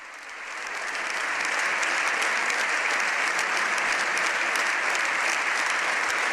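Long, swelling applause fills the Spanish Congress of Deputies, building over the first second and then holding as a dense, even roar of many hands clapping.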